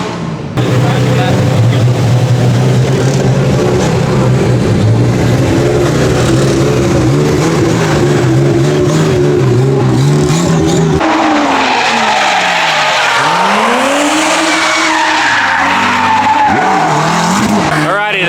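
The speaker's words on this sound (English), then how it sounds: "Look at that Formula D car." Formula D drift car at an event in Japan, loud and continuous, with a roaring engine and long squealing tires sliding, the engine pitch rising and falling in sweeping arcs in the second half.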